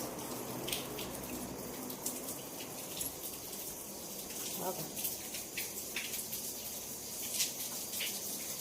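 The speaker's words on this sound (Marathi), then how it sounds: "बाहेर टपाटपा पाऊस चालला आहे" Faint, steady rain patters outdoors with a soft continuous hiss and scattered drips, heard from a distance and low in volume.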